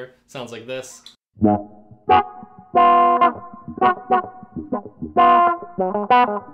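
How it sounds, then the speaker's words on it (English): A voice speaks briefly, then a funky guitar phrase through a 3-Leaf Audio Proton envelope filter pedal, quacky and sweeping, plays in punchy, rhythmic bursts. "This is a really great funky envelope filter."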